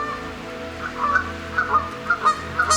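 Several waterfowl give a run of nasal honking quacks, repeated in short pairs at a steady pace, fairly close, over a low hum.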